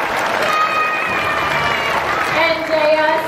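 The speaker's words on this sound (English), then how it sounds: "Let's give him a big round of applause." A live audience at a tiger presentation on Tiger Island at Dreamworld, Australia, breaks into steady, dense applause, loud and close, with a few voices mixed in throughout.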